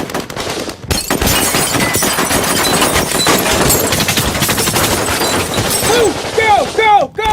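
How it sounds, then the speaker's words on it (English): Loud, dense gunfire fills a staged reconstruction of an aircraft hijack as French Special Forces storm the cabin, with rapid overlapping shots and cracks running almost nonstop, and raised voices rising near the end. "the French Special Forces is evacuating the passengers through a hail of gunfire"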